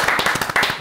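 A lecture audience claps briefly, a quick burst of several distinct hand claps in a fairly even rhythm, loud and close.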